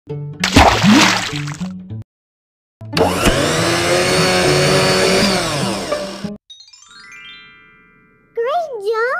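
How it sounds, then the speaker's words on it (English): A loud electric blender whirs steadily for about three seconds making a fruit smoothie, set between bright cartoonish chimes and playful sound effects. "Put the even numbers of the fruit into the blender to make a smoothie."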